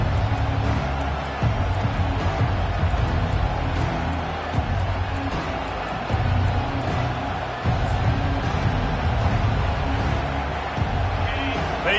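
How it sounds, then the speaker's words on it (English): A stadium crowd at a Michigan football game cheers with a broad, sustained roar, and an announcer's voice runs over the noise. "They challenge this crowd to bring the energy, and I'd say they're doing that"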